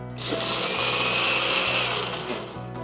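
A kitchen mixer grinder whirs loudly up close as it grinds roasted chana dal into powder, a high whine broken by brief pauses in short pulsed bursts.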